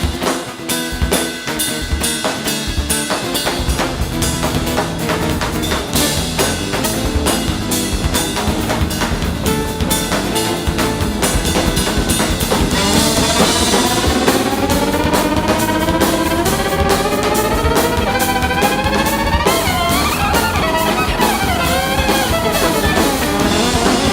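A band plays a lively fiddle tune together, with fiddle lines weaving over dense rhythmic accompaniment, loud and continuous throughout without any talking.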